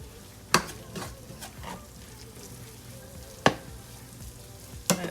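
A spoon stirs all-purpose flour into a pot of hot fat, a soft continuous sizzle broken by a few sharp clacks of the utensil against the pot's side, no voices.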